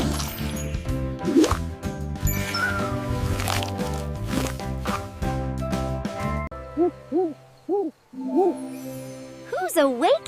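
Owl hoots from a children's animal-sound guessing game, a few short, clear, tonal calls in a quiet gap after a busy musical stretch, with a brief rising call at the end.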